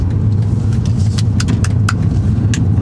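A small car's engine hums steadily while driving at low speed, a constant low drone with faint clicks and rattles above it, close and fairly loud, without talking.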